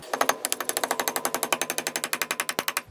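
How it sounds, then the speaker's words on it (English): Rapid, evenly spaced metallic hammer blows strike a part during an engine pull on a 1989 Dodge Colt. Roughly thirty sharp close hits arrive in a steady fast rhythm with nothing else heard. "Hit that with the hammer."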